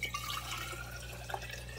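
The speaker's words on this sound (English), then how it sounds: "I will pour the water in here" Water is poured into a glass betta-fish jar, giving a faint trickle with scattered drips and splashes over a low steady hum, with no talking.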